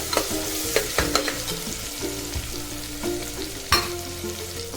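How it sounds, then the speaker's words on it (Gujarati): Chopped tomatoes, chillies and ginger-chilli paste sautéing in a hot pan for stuffed brinjal curry, a steady close sizzle broken by several sharp scraping stirs of a spoon. "આપણે એમાં નાખી દઈશું અને સરસ રીતે સાંતળી લેવાના છે"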